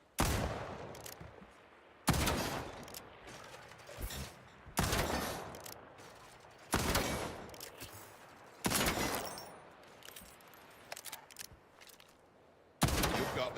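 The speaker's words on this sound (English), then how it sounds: "We can start by firing your weapon. Go ahead. Take some shots." Weapon gunfire in the shooter HighGuard: a series of six loud, crisp shot bursts spaced about two seconds apart, each with a short echoing tail, over a quiet, faintly rustling background.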